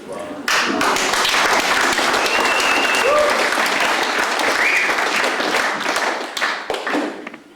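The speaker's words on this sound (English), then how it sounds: "I will tell Paul Rogers how you applauded his generosity" Audience applause at an anniversary gathering, dense enthusiastic clapping that starts abruptly, stays loud for about six seconds with a few whoops, then thins and fades out.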